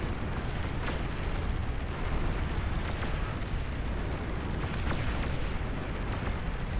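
A rumbling EMP missile explosion in a video game, a dense roaring blast that holds steady and loud for several seconds with crackling bursts, and no talk over it.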